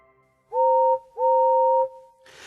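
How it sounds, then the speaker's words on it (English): Two long two-tone steam engine whistle blasts from a cartoon sound one after another, clear and loud, followed by a short hiss of steam. "Suddenly, Edward heard a whistle."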